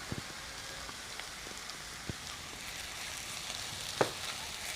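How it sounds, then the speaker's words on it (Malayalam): Onions sautéing in a pan with ginger on the way for a Kerala fish molee, a soft steady sizzle with a few faint utensil clicks and one sharper scrape near the end. "നമുക്കൊരു ഗോൾഡൻ ബ്രൗൺ നിറാവുന്നോടം വരെ ഇതിനെ വഴറ്റിയെടുക്കാം."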